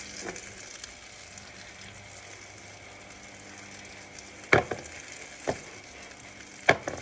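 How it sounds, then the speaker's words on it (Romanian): Butter frying and browning in a pan for a creamy spinach soup, giving a steady soft sizzle throughout with a few sharp clinks of a utensil against the pan near the end. "Chiar așa să se ardă, că știți că untul se arde repede."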